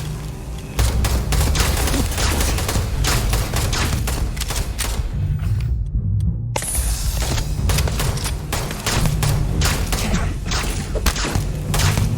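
Rapid gunfire from a non-lethal gun in the video game Starfield, a dense fusillade of loud close shots and thuds running almost continuously, with one brief gap in the middle.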